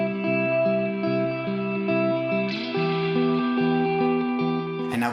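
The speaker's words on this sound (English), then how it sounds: "And this is what it sounds like with the filter." Reverb with high-pass and low-pass filtering set around 600 Hz and 10 kHz trails a steady, loud sustained chord that changes notes partway through, ending on a short bright burst.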